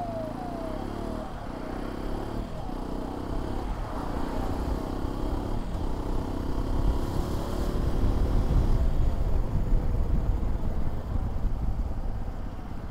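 Hero Xpulse 210, a 2025 off-road motorcycle, rides during a front brake test, its engine droning close under strong road and wind rumble, briefly dipping in pitch before rising in a steady roar.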